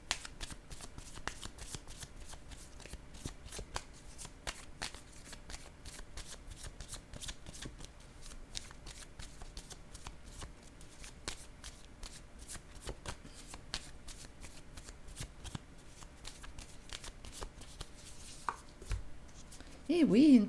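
Tarot cards are shuffled continuously at close range, a quiet rapid run of soft riffling flicks and taps, with a brief voice near the end.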